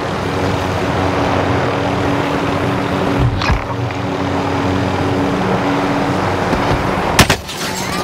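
A Call of Duty: Warzone aircraft produces a constant loud engine drone with a low steady hum, broken by a brief whoosh midway and a sharp crack near the end, no talking.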